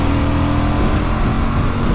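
A Suzuki V-Strom 1050DE motorcycle engine pulls hard on the road, a loud, steady low growl with a constant drone and wind rush, heard close up with no talking.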